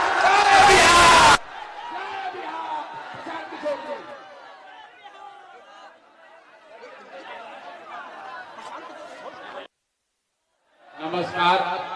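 A large Bihar political rally crowd claps and chants a slogan, opening with a loud roar, then settling into dense shouting and chatter. After a brief silence, the cheering surges back.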